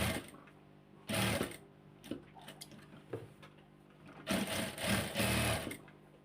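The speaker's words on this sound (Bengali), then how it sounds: "এখন এই দিক দিয়ে কিনারে কিনারে সেলাই দিতে হবে একটা" Sewing machine running in short bursts as it stitches along fabric edges, with two louder stretches of rapid mechanical whirring and clicking separated by quieter handling sounds, close by and with no talking.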